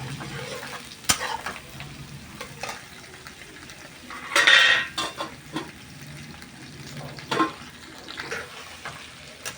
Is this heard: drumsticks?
yes